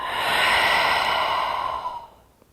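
A long, slow breath is exhaled during a Hatha yoga session, a soft airy whoosh up close that fades out gradually, with no talking.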